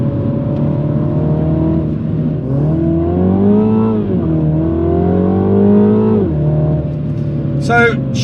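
A 2021 MINI JCW drives on a French mountain pass, its engine droning loudly and steadily while pitch rises and falls through acceleration and gear changes, with someone talking over it.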